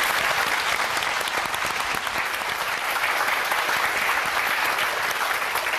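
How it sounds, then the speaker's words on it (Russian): Loud, continuous applause from a TV studio audience on a matchmaking show, dense and even throughout with no voices above it. "Спасибо за аплодисменты."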